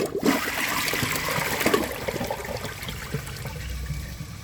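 A Vilbomex front-flush toilet flushes a dish towel, giving a close, rushing gush of water that swirls and trickles away over several seconds.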